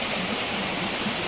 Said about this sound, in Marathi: चंद्रपूर जिल्ह्यातला एकमेव धबधबा ह्या 12 महिने वाहते